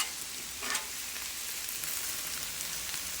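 Kale cooking down in a pan gives off a steady, soft sizzle and faint crackle, with a brief stir or clatter near the start and no voices.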